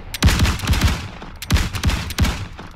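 Volleys of massed musket-style gunfire in Arma 3 with a Warhammer Empire mod, two ragged salvos of many overlapping shots each, loud and close with no talking.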